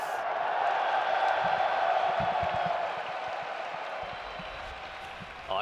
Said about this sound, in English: If you in the crowd, make some noise!